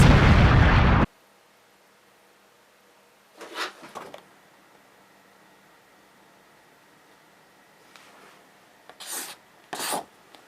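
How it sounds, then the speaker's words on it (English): A thrown sword explodes on striking a monster in the Japanese Spider-Man series, a loud, abrupt burst that cuts off sharply, followed by near silence and a few faint scattered pops and whooshes later on. "he throws the fucking thing at the monster, and it explodes!"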